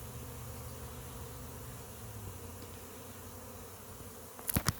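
A honey bee swarm drones in a steady, close buzz around a tree branch, with a few sharper wingbeat bursts near the end.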